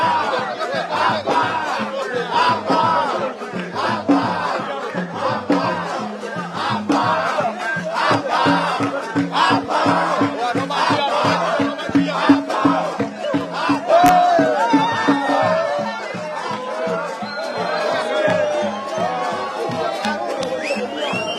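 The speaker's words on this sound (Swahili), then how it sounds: "Sikiliza hamasa za mashabiki mbalimbali wakifurahia kile ambacho amekifanya Ibra." Crowd of fans at Dar es Salaam airport welcoming boxer Ibrahim Class, loud sustained chanting and cheering with rhythmic clapping or drumming beats, mixed with shouts and chatter close by.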